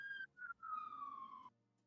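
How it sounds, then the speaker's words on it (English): A faint siren wails in a few short rising and falling tones, then cuts off, sounding distant. "'Twas a siren, my friend."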